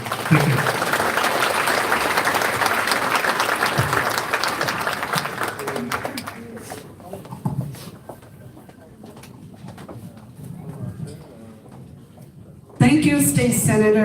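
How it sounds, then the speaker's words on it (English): Crowd applause rolls steadily for several seconds, then thins out and fades; a voice cuts in loudly near the end. "Round of applause for him."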